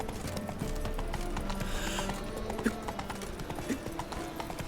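Roach the horse clip-clops steadily along in The Witcher 3, the hoofbeats sitting under a constant bed of game ambience with a couple of brief louder knocks.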